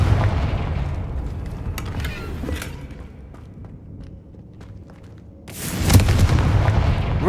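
A Confringo blasting spell explodes in Hogwarts Legacy, a loud booming burst at the start that fades into rumble, followed after a quieter stretch by a second sharp, bright blast near the end.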